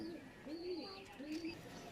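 Lambardi pigeons coo in a pigeon loft, a few soft, low throaty calls rising and falling close by over a quiet background.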